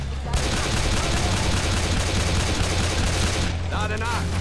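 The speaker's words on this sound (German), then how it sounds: "Okay, schieß nach hinten." Continuous heavy gunfire from Left 4 Dead roars close and loud in sustained automatic bursts, with a voice briefly heard near the end.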